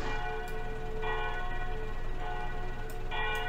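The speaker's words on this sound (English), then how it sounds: "I don't know why there's this kind of irritating chime of bells." Church bells chime steadily in the OMSI 2 bus simulator on a London route, a sustained ringing tone with overlapping strikes that shift pitch around the one- and three-second marks, continuous and moderately loud with no talking.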